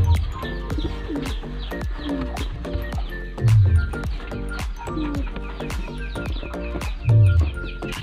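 Pigeons in a loft cooing in low repeated rolling phrases, with wings and feet shuffling and small clicks throughout, several birds close by, no talk, during a check of their eggs.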